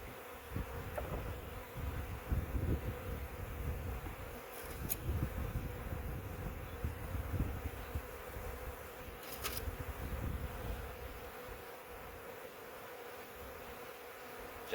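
Honey bees swarm over hive frames, a close, continuous droning buzz with individual insects swelling and fading as they pass.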